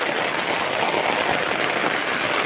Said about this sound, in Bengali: সেখানেও খুবই বৃষ্টি পড়ছে